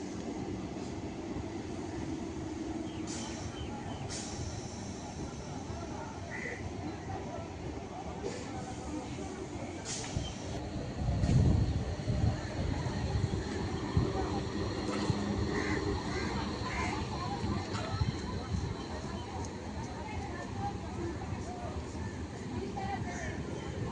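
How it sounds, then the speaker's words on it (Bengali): A down passenger train pulls into a rural West Bengal station platform, a sustained broad rumble and rattle of wagons with a few squeals and clanks, a louder thud near the middle, and people talking in the background. "আর ডাউন ট্রেনে চলে এসছে, তো একটু লেটেই এসছে আজকে ট্রেনটা"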